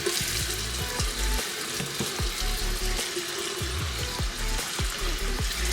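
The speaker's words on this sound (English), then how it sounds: "And I'm going to go ahead and run some water." Tap water runs and splashes over a dirty makeup brush at a sink, a close, steady hiss broken by irregular wet knocks and squelches as the brush is worked under the stream.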